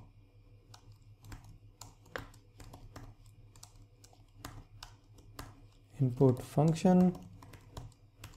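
Code is typed on a computer keyboard, a run of quick, light clicks under quiet spoken narration, ending in a louder burst of keystrokes blended with the speaking voice.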